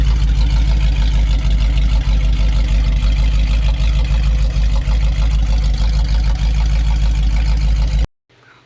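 A 1978 Ford Bronco truck engine idles through a custom exhaust, loud and close, a deep steady rumble with a rapid pulsing beat before it cuts off abruptly.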